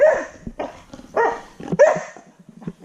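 A dog gives several short, close barks and yips in quick succession, some with a whiny, half-howling tone, with brief pauses between them and no talk over them.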